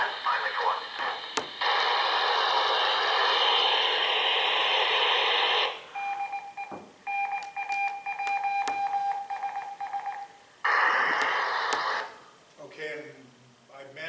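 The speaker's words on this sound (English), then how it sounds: "most of you copy Morse code, that's NA1SS, that's the ISS station IDing" Over a ham radio receiver, the ISS station NA1SS sends its Morse code ID as a thin, steady tone of beeps between bursts of loud static hiss, with radio voices in the gaps.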